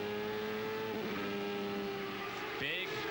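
IndyCar race cars battling on track at Nazareth in 1994 make a sustained high engine whine that shifts pitch as they pass, with a rising rev near the end, under commentary.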